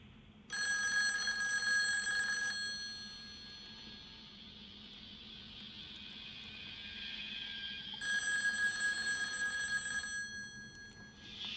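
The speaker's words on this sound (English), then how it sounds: "You want to hear the Chief's latest phone call?" A telephone bell rings in two loud, bright bursts separated by a quieter gap, clear and close with no talking over it.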